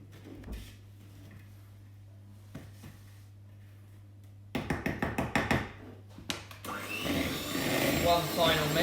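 Electric mixer giving cake batter a final beat, with quiet tapping and a low hum before a burst of clattering and then a loud whirring run near the end.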